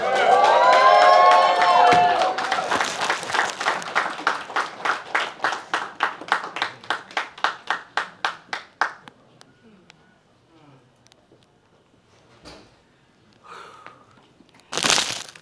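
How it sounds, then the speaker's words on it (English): An audience applauds and cheers at a friendship celebration event, a burst of mixed voices giving way to rhythmic clapping in unison that fades out, followed by scattered faint sounds and a brief loud final noise. "Please give Candy Castleberry a round of applause."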